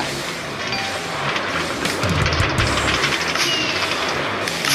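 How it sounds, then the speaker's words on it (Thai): Minecraft minecart train rolling along rails in a village, a steady rumbling clatter with a louder clunking burst partway through, continuous and close. "มันจะมีรถไฟ"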